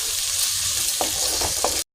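Shallots sizzle steadily in a hot pan with salt, a loud continuous frying hiss broken by a few soft stirring scrapes near the end before it cuts off abruptly.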